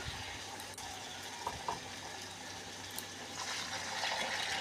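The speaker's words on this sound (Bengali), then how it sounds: "জল দিয়ে দিচ্ছি।" Water poured into a pan of potatoes and spices for a fish curry, a quiet steady gushing splash that swells slightly toward the end.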